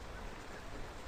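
Steady rain falling during a storm in the farming life game Kynseed, an even, unbroken hiss of drops on a surface with no talk.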